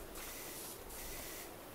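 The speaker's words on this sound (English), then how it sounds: "While I'm here, I'll spray the rocks." Steady hissing spray from a pressure washer blasting rocks in the cleaning video game PowerWash Simulator, a continuous close broadband rush with slight surges, no voices.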